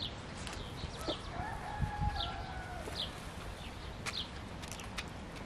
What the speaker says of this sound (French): Je viens de retrouver ma poule, Harry.